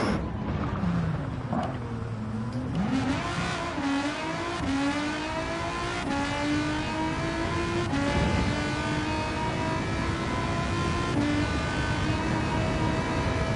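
VW GTI VGT race car driven in Gran Turismo 7, its engine revving steadily throughout with rising and falling pitch as it accelerates through gear changes, loud and continuous with no talking.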